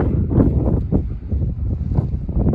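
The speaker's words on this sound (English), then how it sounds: "Really windy." Strong gusting wind buffets the microphone on an exposed ridge high on Mt. Columbia, a Colorado fourteener, a loud steady roar with low rumbling surges and no voices.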